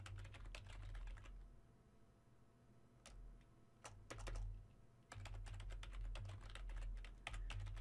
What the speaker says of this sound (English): So I'm going to go ahead and type here